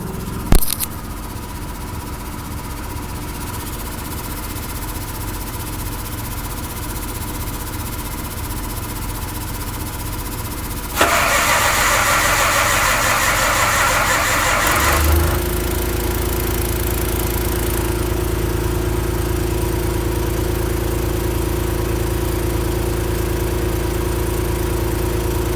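A Mack R600 truck's engine cranks, catches and settles into a steady, loud idle, with a harsh burst around the start before a deep continuous rumble carries on to the end.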